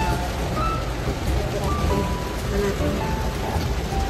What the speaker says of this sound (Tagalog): Ito umuulan. Nalakas ng ulan.